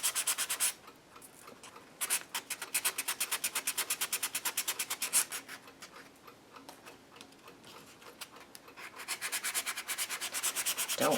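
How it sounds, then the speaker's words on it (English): A sanding block rubs back and forth over the handle of a secret box built into an altered book, making quick rhythmic rasping strokes, close and fairly quiet, in several bursts separated by short pauses. "Let's take a sanding block,"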